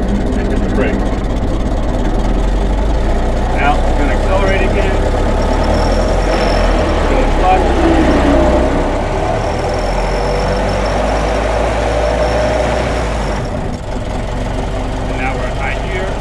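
A Ford Model T engine running steady and loud in low gear as the car slows toward a stop, its low mechanical drone continuous throughout with a slight drop near the end.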